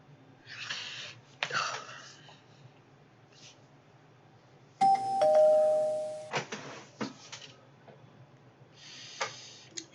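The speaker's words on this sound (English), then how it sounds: "You might be wondering what those bells and rings are. That's an alert for me." Alert chimes and ringing bells from a stock trading platform, a sustained tonal ring lasting over a second among shorter bright dings, close and fairly loud with no talk.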